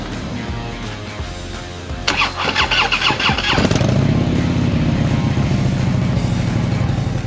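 A motorcycle engine cranks for about a second and a half, then catches and settles into a loud, steady idle close by.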